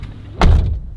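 A car door thuds shut once, close and fairly loud, with a short broadband impact followed by a brief low rumble, against a quiet outdoor background.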